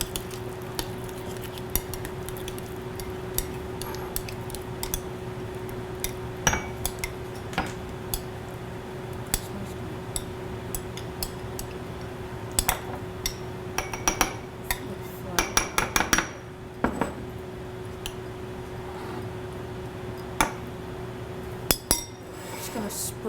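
Pretzel chips and cheese are stirred in a bowl, giving scattered light clinks and ticks of a utensil against the dish over a steady background hum, with a few quick clustered scrapes.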